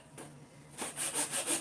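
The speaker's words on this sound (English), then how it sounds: "I only have my other damn handsaw." A handsaw cutting through wood: a soft scrape, then a few strong rhythmic back-and-forth rasping strokes that grow louder, close and alone without voices.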